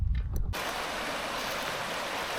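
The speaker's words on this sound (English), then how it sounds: "We've got a little waterfally bit here," Steady rushing water fills the clip, a continuous broadband splash from a small waterfall nearby a car park in Scotland, after a brief quieter moment at the start.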